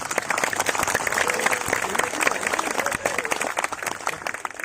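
Crowd applause in a hall during an Indonesian speech, dense uneven clapping from many hands mixed with some crowd noise.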